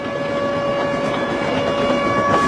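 Steam locomotive pulling out of a station at speed, a steady loud rumble of rail running with a sustained whistle-like tone held throughout, no voices.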